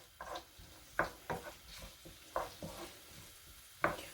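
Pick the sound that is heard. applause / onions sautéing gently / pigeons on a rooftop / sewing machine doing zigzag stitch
onions sautéing gently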